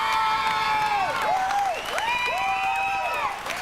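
Crowd applause with cheering and sustained whistled tones rising and falling over the clapping at a 1994 coronation barbecue event, loud and steady throughout.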